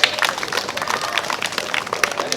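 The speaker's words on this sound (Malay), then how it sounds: "Berikan tepukan yang gemuruh." Applause from an audience at an archery tournament in Malaysia, a dense steady wash of many hands clapping together for the full stretch, with no voices standing out.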